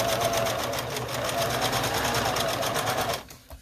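A sewing machine stitching strips for a string quilt runs in a fast, even mechanical rattle at close range for about three seconds, then stops abruptly.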